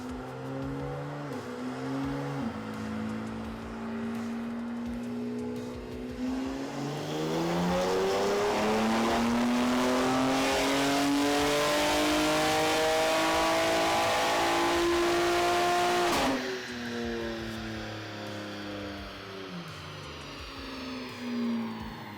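A stage 2 tuned BMW G87 M2 on a dyno, its engine revving up through a long loud full-throttle pull that climbs steadily in pitch, then drops back to a lower idle-like drone.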